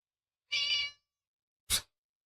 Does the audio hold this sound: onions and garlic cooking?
no